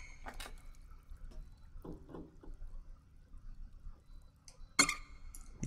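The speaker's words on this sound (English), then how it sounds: "Leaky faucet." A leaky faucet in the horror game Layers of Fear 2 drips in quiet surroundings, a few soft scattered drops followed by one sharper, brighter splash near the end.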